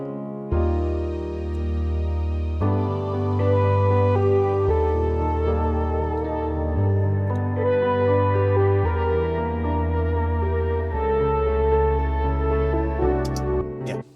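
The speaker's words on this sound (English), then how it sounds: "a patch from Massive X from Native Instruments, and that's called Wintry Tinkle, just a factory preset." Native Instruments Massive X factory preset Wintry Tinkle, a bright bell-like synth doubling a piano line, playing a steady sequence of sustained chords and melodic notes over a deep bass, loud and close with no voices.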